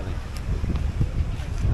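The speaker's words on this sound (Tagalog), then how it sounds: "Malakas din ang hangin dito" Strong wind blows at Bituon Beach in Mobo, Masbate, buffeting the microphone with a low, steady rumble and gusty swells over a brief stretch.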